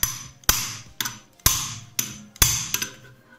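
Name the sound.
hammer striking adjustable wrench to loosen scooter clutch nut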